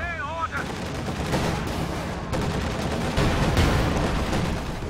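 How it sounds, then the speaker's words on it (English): Rapid bursts of automatic cannon fire from a Flak Panzer hitting the rear of a Soviet IS-2 heavy tank in Company of Heroes 2, loud and continuous with overlapping shots and battle noise. "Flak Panzer firing on the rear of the IS-2"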